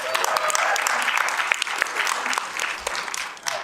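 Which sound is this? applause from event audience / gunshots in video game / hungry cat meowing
applause from event audience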